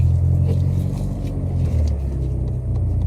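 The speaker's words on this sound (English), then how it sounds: "the traffic is ridiculous." Heavy midday traffic near a parking lot makes a steady low rumble of idling and slowly moving cars, continuous and fairly loud with no voices.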